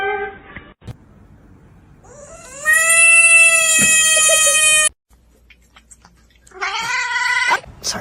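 A pet cat lets out a drawn-out, rising caterwaul, then goes quiet before a second shorter meow-like yowl; the cries are loud and close, with no talking over them.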